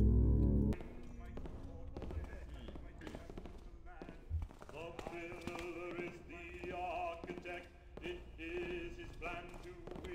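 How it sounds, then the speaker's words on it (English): Footsteps in the stealth video game Thief, played in the fan mission The Hammerite Imperium: Seven Shades of Mercury, tap out in an irregular run of soft knocks beneath game ambience and voices. "I'm hearing footsteps on the right there"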